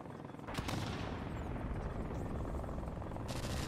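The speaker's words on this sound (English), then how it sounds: "Enemy helicopter inbound." An enemy helicopter in the video game Modern Warfare Remastered roars steadily and loudly, its dense rotor noise mixed with bursts of gunfire throughout.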